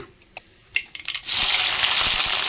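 Mustard seeds and cumin drop into about two spoons of hot oil in a kadai and start sizzling. A few small clicks and taps come first, then a loud, close, steady frying hiss that fills the rest of the clip.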